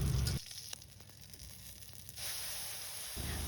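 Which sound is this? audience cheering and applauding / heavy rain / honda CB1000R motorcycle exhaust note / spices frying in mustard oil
spices frying in mustard oil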